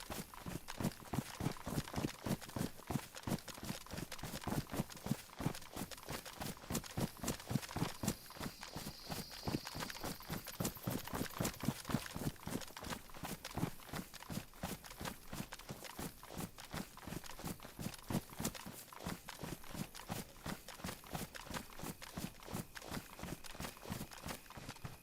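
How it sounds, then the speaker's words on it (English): Steady, rapid footsteps crunch along continuously through an alleyway in DayZ on the Livonia map, a dense rhythmic patter that goes on without pause at moderate loudness. "hearing a lot of footsteps."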